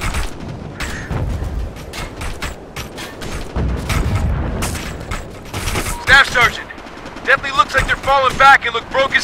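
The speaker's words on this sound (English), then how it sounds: "I'm taking fire over here." Gunfire from the Operation Flashpoint: Red River military shooter game, a loud continuous stream of bursts and impacts with machine-gun rattle and dense battle noise, with voices speaking over the combat.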